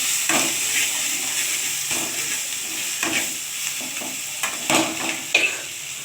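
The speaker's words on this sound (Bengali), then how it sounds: "দেখুন পোস্ত কাঁচা লঙ্কা বাটাটা এখানে আছে আমি এটা দিয়ে দিচ্ছি একটু ভেজে নেব দেখুন এটা একসঙ্গে ভেজে নিচ্ছি" Poppy seed and green chili paste fries in a pan with a continuous hissing sizzle, broken by repeated stirring scrapes and brief louder bursts.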